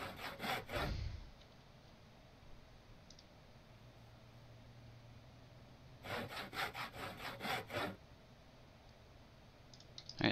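Wood being sawn in the Project Zomboid survival game comes in two bursts of rapid rasping strokes, a short one at the start and a longer run of about eight strokes later, with quiet clicks in between.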